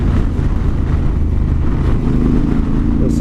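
Motorbike engine droning steadily while riding, a loud, continuous low rumble with wind noise throughout, no speech.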